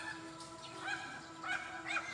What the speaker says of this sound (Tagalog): Yung aso nyo.